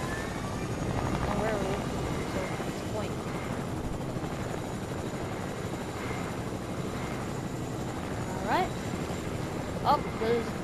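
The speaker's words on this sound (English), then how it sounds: "Oh, the helicopter looks sick." A helicopter in the video game Fortnite drones with a steady rotor whir and engine hum, moderately loud and continuous amid other game sounds.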